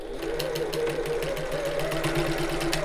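A sewing machine stitches fabric at a quarter-inch seam allowance with a regular stitch length, whirring continuously and evenly at close range throughout, with no voices.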